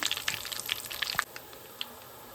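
Curry leaves and stone flower crackle and spit in hot oil in a pan, a close, dense sizzle with sharp pops that eases off after a second or so.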